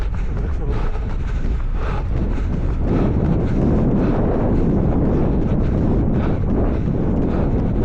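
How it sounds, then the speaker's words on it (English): Steady crosswind roaring past a sailing boat racing on open water, a loud continuous rush with buffeting against the microphone throughout. "that's a crosswind you can hear there"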